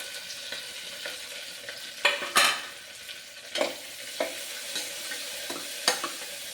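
Onions sautéing in a pan with handfuls of mint and coriander leaves, a steady background sizzle broken by several sharp scraping stirs of a spatula, no talking.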